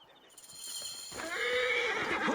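A horse in the video game Assassin's Creed Origins whinnies loudly and close, a rising then falling neigh with faint hoofbeats and rustling underneath, no voices.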